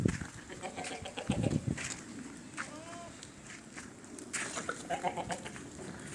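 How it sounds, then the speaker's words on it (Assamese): Beetal goats on an Assam goat farm give scattered bleats against steady farm ambience, with light movement and footsteps in the background. "বাতিচি আছে, বাতিচি, বাতিচি ছাগল।"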